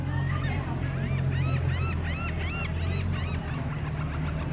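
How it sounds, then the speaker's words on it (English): A seagull calls repeatedly in a rapid series of loud, nasal honking cries, close by, over a low steady rumble of background noise that could be a boat engine. "It's a happy seagull right there."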